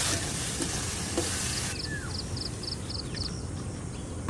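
Chicken pieces frying in a pan, a steady, loud, dense sizzle close by that runs the whole time, with a faint rhythmic beeping in the background partway through.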